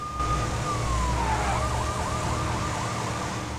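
Police car siren in LEGO City Undercover, a long falling tone that turns into a rapid wailing warble, loud over steady traffic and engine noise, with no talk.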